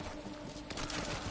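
Gunfire from an automatic turret in a video game: a brief, rapid fusillade of shots that thickens midway, moderately loud, with no talk over it.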